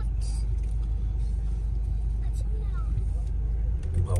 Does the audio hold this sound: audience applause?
no